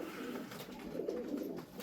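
Bango pigeons with marble heads, corn-coloured beaks and bulging eyes coo steadily at close range, a low, continuous burbling murmur with no talk.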